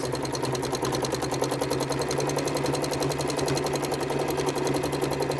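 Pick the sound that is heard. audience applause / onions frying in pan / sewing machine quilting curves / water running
sewing machine quilting curves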